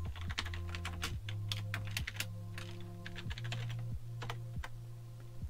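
Typing on a computer keyboard while setting up a file in Android Studio: steady, close clicking keystrokes in an uneven rhythm over a constant low electrical hum, with no talking.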